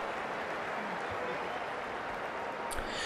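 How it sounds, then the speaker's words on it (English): Polite crowd applause from spectators at a cricket match in the Ashes Cricket video game, a steady, fairly quiet wash of clapping that runs evenly throughout. "I get a polite clap from the crowd"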